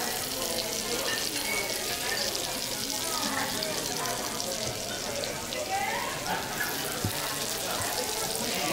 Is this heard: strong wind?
no